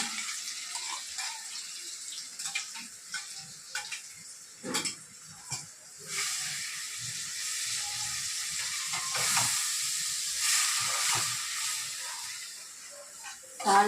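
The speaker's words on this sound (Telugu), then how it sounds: "ఇది వేసేసి ఇప్పుడు దీన్ని వేపుకోవాలండి" Onion and ground tomato paste with dried red chillies fry in a pan, giving a continuous soft sizzle and hiss, close and steady, with occasional clinks and bursts of stirring.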